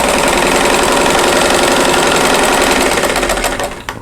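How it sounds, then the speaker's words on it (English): A sewing machine stitches quilt squares along a diagonal line in one continuous, loud, close run with a steady rapid needle rhythm. It slows and winds down at the very end, and no one speaks. "I'm just going to line these up and then sew on that diagonal line."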